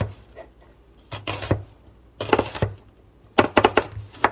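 A knife cutting thin cucumber slices on a board, in three separate bursts of quick rhythmic chops, each a cluster of sharp close knocks with quiet pauses between.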